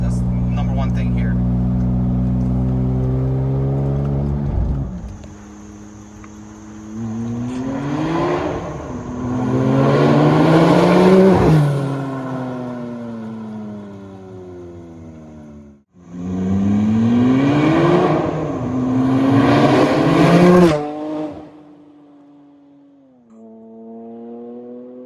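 A 1000hp Porsche 911 997.1 Turbo accelerates hard on a road, its engine rising in pitch through several gear pulls with brief drops at shifts, loud and close, ending in a lower steady drone.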